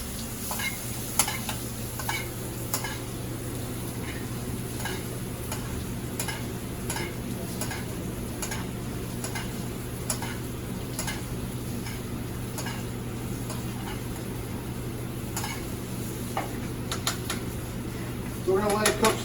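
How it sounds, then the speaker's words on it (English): Salmon searing and being basted in a hot pan with herbs, a steady close sizzle throughout with frequent light spoon clicks and scrapes against the pan. "we're going to continue to baste it, make it nice and crispy and very flavorful"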